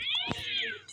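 A single cat meow from a Roblox lucky-block game, a short rising-then-falling cry close and clear, with a faint bump in the middle.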